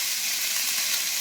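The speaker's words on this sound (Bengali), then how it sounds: "এটা একটু ভাজা হোক ভালো করে।" Panch phoron spices frying in hot oil in a wok give a steady, loud, close hiss and sizzle that runs without a break, with no voices.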